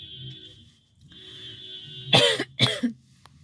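Two sharp, close coughs in quick succession over a faint steady background hum.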